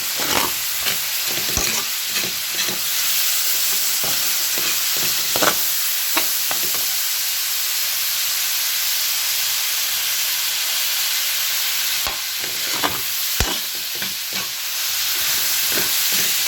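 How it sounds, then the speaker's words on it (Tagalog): Ingredients for a homemade soup sizzle steadily in a hot pan, a continuous frying hiss with intermittent stirring scrapes and clinks throughout, close and moderately loud with no talking. "Gisa yun, eh."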